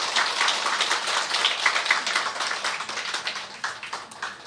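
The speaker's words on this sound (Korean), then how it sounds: "우리 뜨거운 박수로 환영하겠습니다" Steady applause from a church congregation welcoming newcomers, dense overlapping claps sustained throughout at a fairly loud level, with no voices on top.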